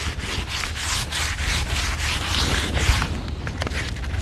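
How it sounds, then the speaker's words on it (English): Sandpaper rubbing back and forth across a wooden staircase by hand, using 220-grit black paper; a steady, fairly loud scratchy swish with regular strokes, close up and alone with no talk. "I'm going to take the other sandpaper, which is the 220."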